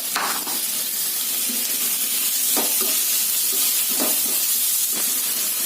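Tomato and cluster beans (gawar phali) fry in a pan, a continuous close hiss of sizzling oil punctuated by a few spatula stirs, with no voices.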